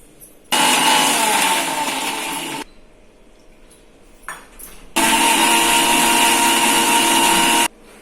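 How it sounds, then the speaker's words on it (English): A kitchen mixer grinder grinds onion chutney in two loud, steady whirring bursts of a few seconds each, separated by a short pause with faint clatter. "Now we grind it please."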